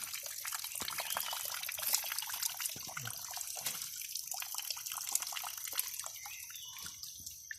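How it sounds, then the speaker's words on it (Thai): Water rushing steadily at a forest waterfall deep in the jungle, a continuous close hiss with splashing and dripping texture, heard alone without talk. "น้ำตกน้ำตก"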